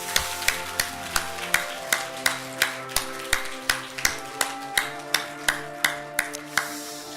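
A church congregation at a New Year's first service claps together in a steady, even rhythm, loud and close, over sustained organ or keyboard tones.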